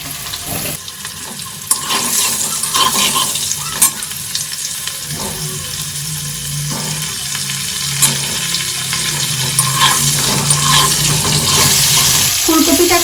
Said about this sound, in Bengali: হলুদটা দিয়ে আমি এবার ফুলকপিগুলোকে ভেজে তুলে নেব